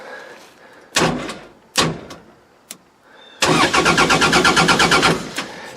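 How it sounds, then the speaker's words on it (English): A Chevrolet Camaro engine with no crank sensor cranks repeatedly without catching: a few short starter bursts, then a long rapid churning run that never fires. "So the car still turns over good."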